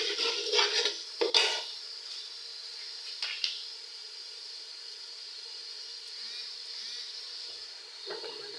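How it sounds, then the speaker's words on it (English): Tomatoes frying in a pan for potato porridge with vegetables, a steady close sizzle with a few brief clinks and stirring scrapes near the start. "We have to fry our tomato for 5 minutes, guys, before we put in another ingredient."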